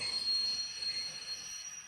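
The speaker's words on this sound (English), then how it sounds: "And then you got brake squeal." A thin, steady high-pitched brake squeal sound effect from a Hornby Flying Scotsman model train rings out on its own, fairly faint, for a couple of seconds.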